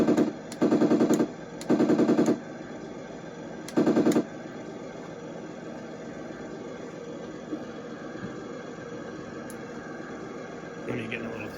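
A Heng Long M1A2 Abrams RC tank fires its built-in machine gun effect in three short, loud electronic bursts near the start, each a rapid rattling volley. Steady low background hum fills the silence afterward.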